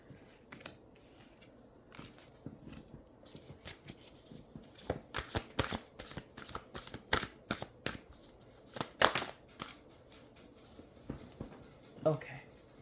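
Tarot cards being shuffled by hand, a run of quick crisp riffles and flicks in irregular bursts, close and fairly quiet.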